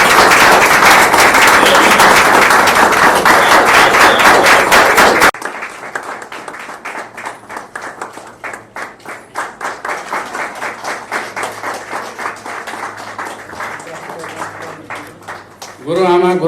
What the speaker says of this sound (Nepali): हामी ताली बजाएर उहाँलाई धन्यवाद दिनेछौँ